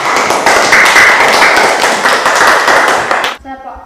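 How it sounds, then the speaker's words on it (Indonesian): A group of students in a teacher-training class applauds a presenting group, dense continuous hand clapping filling the room for about three seconds before cutting off abruptly into near quiet. "berikan tepuk tangan kepada kelompok 2"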